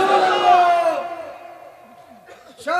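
A large crowd at a Bengali religious gathering shouts Allahu Akbar in unison, one loud massed roar of voices that swells at first and then trails off, with a fresh shout starting at the end.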